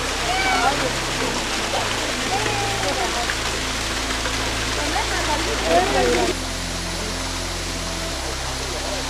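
Kiliyur Falls, a waterfall dropping from a height near Yercaud, pours steadily as a broad, continuous rush of water close by, with a voice talking over it and a low hum underneath.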